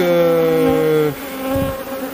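Close, loud buzzing of honeybees crowding a hive frame of brood about to hatch, a droning hum with wavering pitch that dips briefly midway, no voices.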